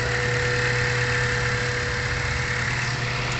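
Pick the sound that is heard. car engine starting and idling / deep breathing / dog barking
car engine starting and idling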